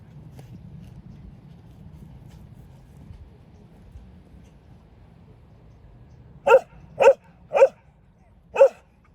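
A dog barks four times in quick, sharp bursts near the end, after a stretch of low background rumble and faint murmuring.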